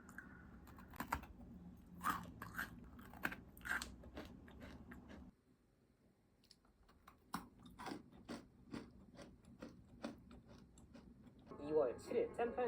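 Crisp crunching and chewing of potato chips at close range, irregular bites with a pause midway, under quiet talking.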